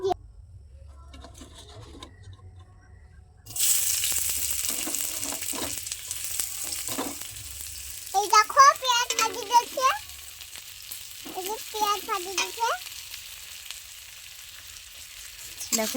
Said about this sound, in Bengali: কড়াইতে এবার তেল দিয়ে দেব তেল দেওয়ার পরে আমি এখানে দিয়ে দেবো পেঁয়াজ কুচি